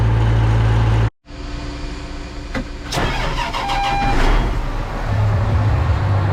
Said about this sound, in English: Gonna get all the tractor warming up here.